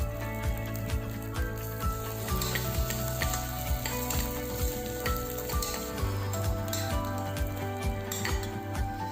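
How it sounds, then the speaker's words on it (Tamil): About twenty garlic cloves and black gram dal sauté in a pan with a steady sizzle, while a spoon stirs and clinks against the metal in a regular rhythm, close and continuous. "அதையும் நல்லா வதக்கிடலாம்."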